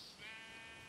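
A sheep bleats in the Minecraft video game, a single drawn-out, wavering bleat that sounds close and fairly clear over faint background.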